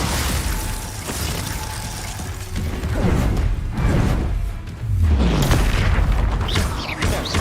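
A Glacius ice spell cast in the Hogwarts Legacy video game: a run of booming magical blasts with crackling, shattering impacts and mechanical whooshes that follow one another closely, loud and close.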